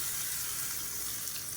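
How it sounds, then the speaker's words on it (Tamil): Mustard seeds, curry leaves, dried red chillies and asafoetida tempered in hot oil, a steady close hiss and crackle of frying that holds evenly throughout with no talk. "இப்போ எப்பயும் போல் கடுகு, கருவேப்பிலை, வரமிளகா, பெருங்காயம் போட்டு தாளிச்சு கொட்டிக்கலாம்."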